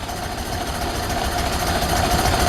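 A running engine idles steadily and fairly loud just after startup, exhaust manifold now quieter, with a constant low rumble and a faint mechanical rattle throughout, no voices.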